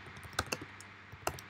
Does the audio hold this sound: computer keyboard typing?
yes